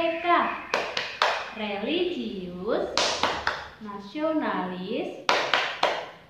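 Children in an Indonesian first-grade class perform a rhythmic clapping chant, sharp group claps punctuating their sung words in a steady pattern, with a teacher's voice leading between them.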